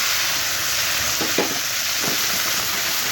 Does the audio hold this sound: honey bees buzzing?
no